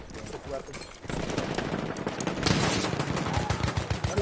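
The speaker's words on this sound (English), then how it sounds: "There's an enemy machine gun!" An enemy machine gun fires in a video game, rapid bursts of automatic gunfire repeating loudly across the clip alongside other game noise.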